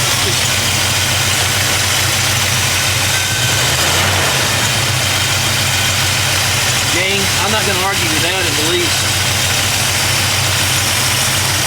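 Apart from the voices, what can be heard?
car engine idling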